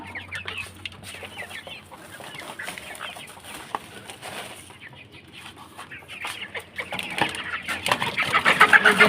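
Chickens cluck in a busy flock while being fed, steady soft clucking with scattered sharper calls, growing louder and more crowded toward the end.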